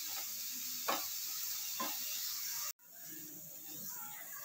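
Onion fries with salt in a pan, giving a close, continuous hissing sizzle broken by two brief stirring scrapes, then a sudden cut and a softer sizzle that resumes.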